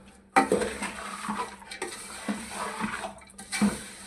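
Spoon clinks and scrapes in a bowl as salt is added to a carrot, lemon and garlic pickle, a few sharp metallic taps over a soft shuffling background, close and moderately loud.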